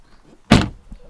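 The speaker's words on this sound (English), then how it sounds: "If we take a seat inside and close the door" A BMW 320d xDrive M Sport closes its car door from inside with one solid thunk, near and alone in an otherwise quiet cabin.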